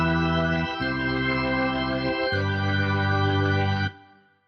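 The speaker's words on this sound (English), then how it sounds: "I'm going to be using the power chord organ that comes stock in Logic" Stock power chord organ patch in Logic plays sustained, bright harmonic chords with a shift in the bass notes twice, then stops and rings out briefly; no voices.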